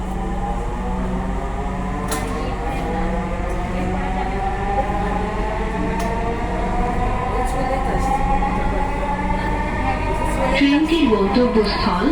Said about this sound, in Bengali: This train is bound for Agargaon.